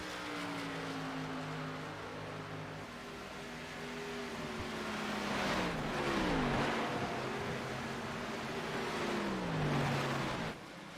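Race cars in a race at Homestead-Miami Speedway, several engines droning and shifting pitch as they pass, loud and continuous with no talking.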